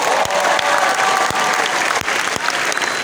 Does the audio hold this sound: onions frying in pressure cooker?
no